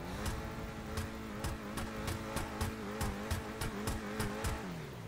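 A V8 engine in the Scramjet car from GTA 5 revs and accelerates loudly and steadily, with a continuous droning roar and repeated sharp, rhythmic bursts as it climbs through the revs.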